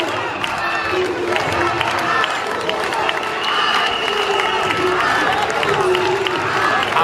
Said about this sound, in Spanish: Aplausos a un lado, abucheos al otro